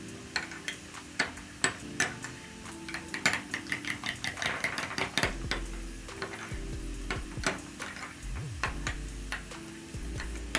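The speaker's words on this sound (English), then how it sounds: "I'll use my little spoon and mix this all together" A little spoon stirs ketchup and barbecue sauce together in a small dish, giving a close, rhythmic run of clicks and taps against the sides, fairly quiet and with no talking.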